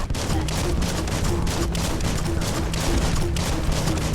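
A gun fires continuously in the video game Biomutant, heavy and loud, with rapid repeated shots in a steady rhythm over a droning background and no clear talking.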